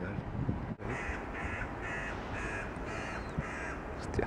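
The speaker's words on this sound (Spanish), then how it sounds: "un cuervo graznando o algo" A crow caws repeatedly in a regular series of about eight harsh calls, moderately distant, over an outdoor background hum, recorded in the United Kingdom.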